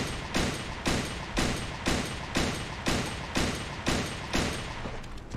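Gunfire in the video game Creative Destruction, a burst of about ten loud shots spaced evenly roughly half a second apart, each sharp crack trailing into a short echo.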